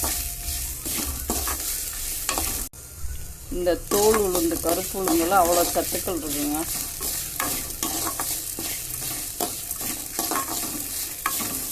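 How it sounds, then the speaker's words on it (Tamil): Steady sizzling and frying as onions and curry leaves sauté in a pan with occasional stirring, while someone talks in Tamil over the cooking noise. "அதோட கருவேப்பிலை வெங்காயம் மூணு எல்லாத்தையும் வதக்கிக்கணும்"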